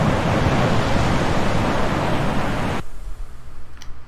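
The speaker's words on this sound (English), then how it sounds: "You can hear the sound of a waterfall in the distance." A distant waterfall in the Resident Evil Remake video game gives a steady, dense rush of water that stops abruptly near the end, leaving a quieter low rumble.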